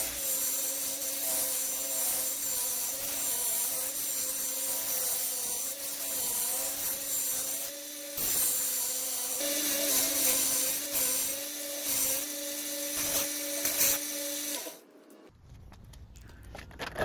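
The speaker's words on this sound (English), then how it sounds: "Using the belt grinder to finish up the profile." A belt grinder finishes the profile of a steel nakiri-style kitchen knife blade, a steady loud whine with a rasping grind that dips briefly mid-way before the machine cuts off near the end.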